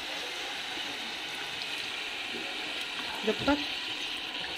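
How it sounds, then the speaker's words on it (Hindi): Water is poured into a pan of jackfruit curry cooked with plenty of oil, making a continuous rushing splash, with a brief spoken voice near the end. "इसको हम मिलाकर थोड़ा सा इसमें पानी और डालेंगे"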